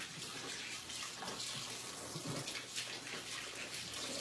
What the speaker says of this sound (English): I'm gonna wash my hands here.